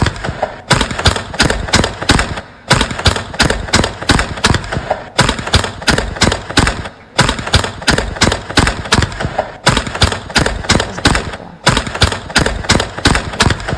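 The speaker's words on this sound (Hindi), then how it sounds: "देखिए अंधाधुंध गोलियां बरसाई गई हैं कपिल शर्मा के कैफे पर।" Bursts of loud, rapid gunfire aimed at a cafe repeat in regular volleys separated by brief pauses, harsh and very close throughout.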